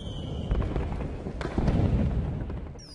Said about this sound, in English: the fireworks that were supposed to be the grand finale didn't help either